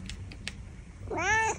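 A Bengal cat gives one drawn-out, rising-then-falling meow near the close, preceded by a few soft clicks and rustles in an otherwise quiet room.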